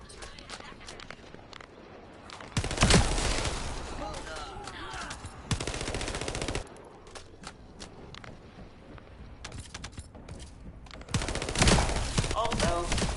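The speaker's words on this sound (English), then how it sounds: "Summoning turret." Bursts of rapid automatic fire from a summoned turret in a video game, loud stretches around three to six seconds and again near the end, separated by quieter game ambience with some speech.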